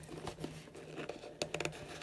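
Cardboard box packaging being ripped and unzipped by hand while computer parts are unboxed, giving a short run of soft crinkles and then a cluster of sharp tearing bursts near the end.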